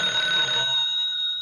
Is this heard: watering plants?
no